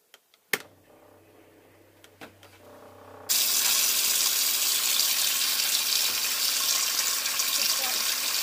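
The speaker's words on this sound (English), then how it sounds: "Now we will start putting more water in and fill it the rest of the way." A few clicks and knocks, then water suddenly rushes into an RV fresh water tank with a loud steady gushing that continues to the end.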